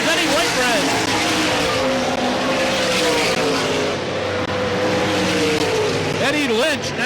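Race cars roar around the dirt oval at Selinsgrove Speedway, a loud continuous engine drone with pitch sweeps as cars pass, and an announcer talks over it.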